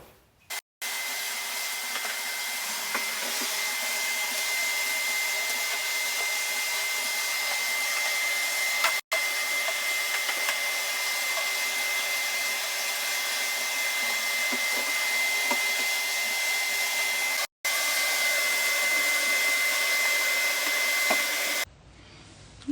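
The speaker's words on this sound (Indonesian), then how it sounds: "karena mau vacuum cleaner dari sebelah situ ke sini" A vacuum cleaner runs at home with a steady, loud motor whine and airflow hiss for about twenty seconds, briefly cut twice and then switched off at the end, with no talking.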